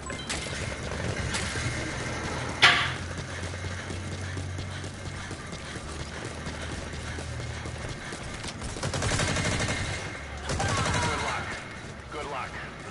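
Video-game gunfire from Metal Gear Online crackles in repeated bursts and single shots, with one sharp loud crack early on and denser rattling volleys later, mixed under people talking.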